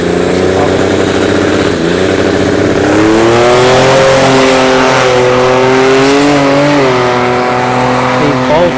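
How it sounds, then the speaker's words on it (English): Drag race cars at a dragstrip test-and-tune session, including a V6 Turbo Mustang, with loud engines revving and roaring as they launch, a sustained rising drone with pitch sweeps and possible tire squeal. "Going up against the V6 Turbo Mustang."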